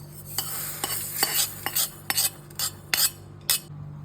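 Roasted moong dal (pasi paruppu) being stirred in a pan with a metal spoon: a series of sharp, close scrapes and clinks in an irregular rhythm over a faint sizzle, with no talking.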